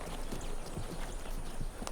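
Horse hooves clip-clop in a steady, uneven rhythm of repeated knocks at close range, several strikes across two seconds with no talk over them.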